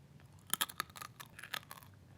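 Dry Rollton instant noodles are bitten and crunched up close, a handful of sharp brittle cracks followed by quieter chewing crunches, with no talking.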